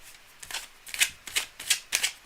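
Tarot cards being shuffled in a series of quick riffling bursts, soft and close, with short pauses between each.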